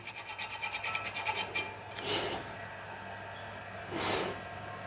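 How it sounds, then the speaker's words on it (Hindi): Sandpaper rasps against an electric iron's pad in a quick run of short rhythmic strokes, followed by two longer, separate scrubbing passes, fairly quiet and close. "इसको भी आपने यहाँ से ना रेगमाल लगा लेना है"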